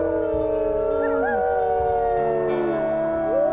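Several wolves in WolfQuest howl together, long overlapping rising and falling tones layered in a chorus, loud and sustained with no talking.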